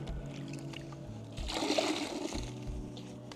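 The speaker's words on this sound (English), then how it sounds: "We want to dip it in our rinseless solution." A sponge dipped and swished in a bucket of rinseless car wash solution, giving a soft close watery slosh and trickle under a steady low background hum.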